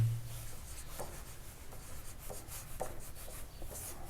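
A pen moves by hand across paper as a geometry proof is written out, making soft, close scratching and rubbing strokes in short, irregular bursts, with no one speaking.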